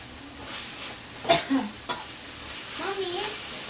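Vegetable palya cooks in a pan, with soft stirring scrapes and a couple of short clatters of a utensil against the pan over faint background sizzle, close and fairly quiet.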